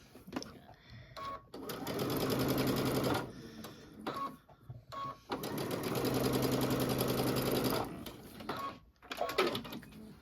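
A sewing machine runs close by as it stitches a zipper into a bench pillow, in two long steady runs broken by brief stops and small clicks.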